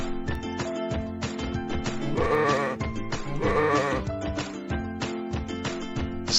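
Sheep bleat repeatedly over a steady backing of music, with two longer, louder wavering bleats standing out in the middle.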